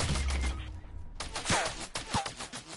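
A submachine gun fires in the video game Fortnite, its short rattling bursts close and loud, with a brief lull in the first second before the firing resumes.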